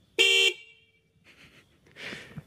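A car horn, from an Alfa, gives one short, loud honk, followed by quieter rustling and handling noises.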